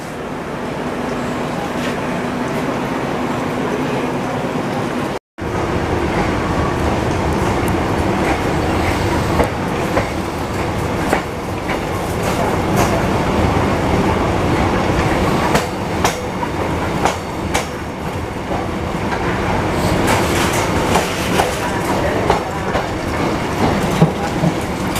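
A Vietnamese train rolls along the railway with steady rumbling and clickety-clack of wheels on rail joints, loud and continuous throughout with a brief dropout near the start.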